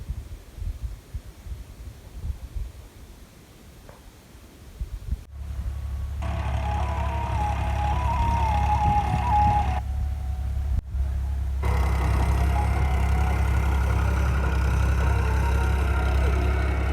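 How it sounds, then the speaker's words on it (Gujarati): A tractor engine idles and hums steadily on a farm field, a low continuous drone that rises and holds after a few quieter seconds of outdoor background. "અને અહીંયા ટ્રેક્ટર હાલે છે."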